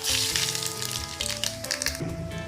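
Mustard seeds, lentils and cumin crackle and sizzle in hot oil for a carrot potato poriyal, a dense, steady frying hiss with popping bursts throughout, close and fairly loud with no talk.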